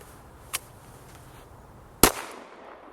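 Two gunshots from a Glock 19 Gen 4 pistol on an outdoor range, a fainter crack followed about a second and a half later by a loud, sharp report with a brief tail, against quiet background.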